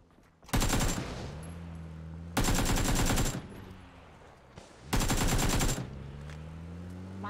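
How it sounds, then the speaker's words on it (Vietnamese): Three long bursts of rapid automatic video game gunfire aimed at a car's tires, each lasting under a second and loud and close, with quiet gaps between them. "Bắn cái gì hả chú? Em bắn lốp xe."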